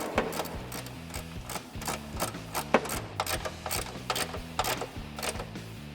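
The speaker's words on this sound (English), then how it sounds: "So I'm gonna take my 13 millimeter on my ratchet, tighten our bottom one up first." A ratchet with a 13 mm socket tightens bracket bolts on a 2005–2009 Mustang GT exhaust install, making rapid, close, repeated clicking in steady bursts with no talking.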